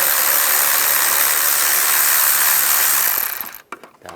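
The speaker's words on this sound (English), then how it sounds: "we're going to loosen up the worm clamps." A 10mm socket ratchets to loosen worm clamps on the intake of a 1996-2002 Toyota 4Runner, a dense continuous mechanical rasp close up that cuts off near the end into a few scattered clicks.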